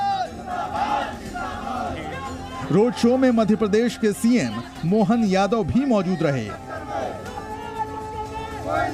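Dense crowd of party workers cheering and chanting at Smriti Irani's election road show in Amethi, a loud continuous roar with rising shouts, under a news voice speaking throughout.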